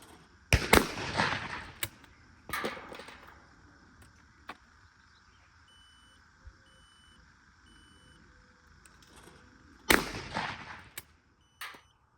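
Gunshots on a shooting range fired at targets: a few sharp, loud bangs spaced seconds apart, with quieter stretches between them.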